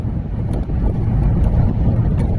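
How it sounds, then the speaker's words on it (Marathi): Strong wind at Zoji La mountain pass rushes across the microphone as a loud, continuous low rumble, steady throughout with no voices. "वाऱ्याचा झोत आपल्या अंगावर प्रचंड वेगानं पडतोय असं वाटतं"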